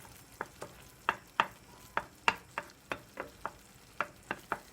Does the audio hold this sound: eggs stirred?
yes